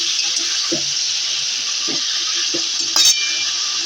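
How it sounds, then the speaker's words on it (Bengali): Chicken and potatoes with turmeric fry in a pan with a loud, continuous sizzle, while a few separate stirring strokes scrape through it and one brief sharper clatter stands out near the end. "এবার একটুখানি ভালোভাবে একটু নাড়া হোক"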